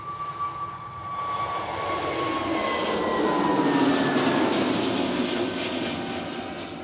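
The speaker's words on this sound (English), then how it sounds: "it's A320neo now off to Belfast" An Airbus A320neo jet takes off from Manchester Airport, bound for Belfast, its engines building to a loud, broad roar with a high whine that swells and then starts to fade as the aircraft climbs away, with no voices.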